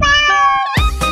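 A cat meows twice in quick succession, close and clear, the first call long and drawn out, the second short and sharp right after.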